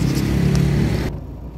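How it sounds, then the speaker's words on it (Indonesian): A Toyota Etios Valco on new 185/65 R15 tyres drives with a steady, loud engine hum and road drone that cuts off abruptly about two-thirds through, leaving a quieter low rumble. "Yuk kita coba gimana rasanya mengendarai dengan ban baru."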